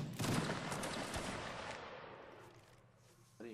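Volley of musket fire in a Napoleonic Wars video game line battle: a loud burst of overlapping shots at the start, then a rumbling decay that fades over a few seconds, with a sharp new crack at the very end.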